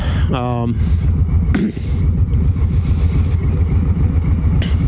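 Harley-Davidson 2020 Low Rider S motorcycle riding with a steady low engine rumble and wind, a brief rising rev near the start, and a voice talking over the motor.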